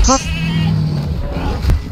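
A goat bleats in the Jurassic World Evolution 2 video game, a loud wavering cry heard up close over steady game ambience and low rumble.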